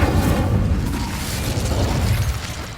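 Fire spell Incendio cast in Hogwarts Legacy on PS5, a loud sustained burst of roaring, crackling flame with deep low rumble that holds steady throughout, no voices.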